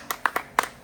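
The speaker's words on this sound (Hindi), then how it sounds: "ताली बजाइए, ताली।" A few people clap in a short burst: about five separate sharp, close hand claps in an uneven rhythm, with no talking over them.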